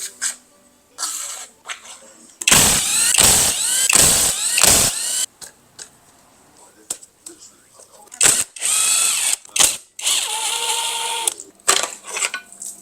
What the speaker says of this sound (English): We're going to start by zipping out our fuel rails.